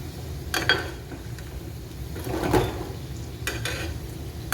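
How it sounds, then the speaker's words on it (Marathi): Vegetable kofta balls frying in hot oil over a high gas flame give a soft, steady sizzle, and a utensil stirs and scrapes the pan in a few brief clinks. "कोफ्ते आपले तळून झालेत. फास्ट गॅसवर 2 मिनटं फिरवायचे आणि काढायचे."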